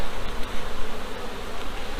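Honey bees buzz at a hive in a thick, close swarm, a continuous droning hum that swells and dips slightly.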